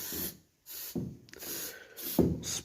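An aerosol can sprays in short hissing bursts over a seized old Honda motor left sitting for ten years, three or four separate blasts with brief pauses between them, close up and with no talking.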